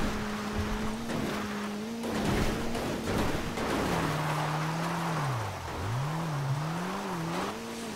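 A car engine in the video game GTA 5 is held at full throttle, a continuous droning whine that rises and dips in pitch as it revs, loud and steady with no talk.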